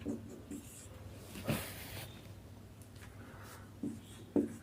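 Pen or chalk writing an example sentence during an English tense lesson, scratchy strokes with a few sharp taps over low room hum.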